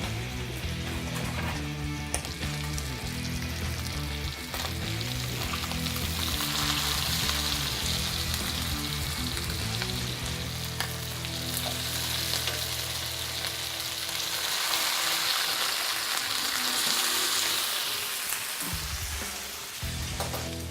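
Whiting fish fillets dressed with herbs and butter sizzle in a pan after being flipped, a loud, steady frying hiss that carries on for the whole stretch with no voices.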